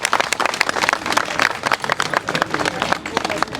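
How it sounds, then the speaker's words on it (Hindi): An audience at a public event honouring pensioners breaks into dense, sustained applause, with rapid overlapping claps and some crowd murmur throughout. "जोरदार तालियों के साथ जोरदार तालियां।"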